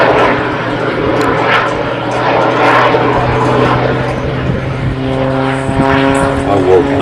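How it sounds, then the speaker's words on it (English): Propeller drone of a Pitts Special aerobatic biplane performing at the Midlands Air Festival, a steady loud engine tone that climbs in pitch near the end, with crowd noise and a voice talking faintly underneath. "I will not see another pit special perform like this"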